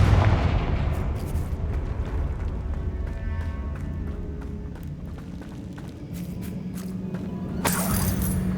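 Confringo fire spell blasts in Hogwarts Legacy land with a rumbling, explosive roar that fades and then gives way to a sharp burst near the end, heard alone without speech.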